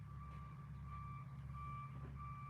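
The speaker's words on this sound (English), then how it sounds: "Do y'all hear the beeping?" A steady electronic beeping repeats at an even pace over a low, constant engine rumble, fairly faint and continuous throughout.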